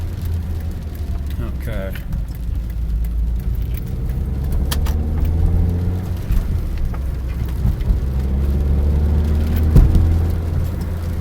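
Car with a manual transmission pulling away, heard from inside as a steady low engine rumble that builds slightly, with rain-like road noise, a light rattle and a person talking briefly over it.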